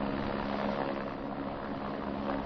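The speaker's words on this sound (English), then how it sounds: "San Diego Police Department's Able helicopter landed on the field at San Diego Mesa College" A San Diego Police Department helicopter landing on a college field, a steady droning rotor and engine hum, fairly distant and even throughout.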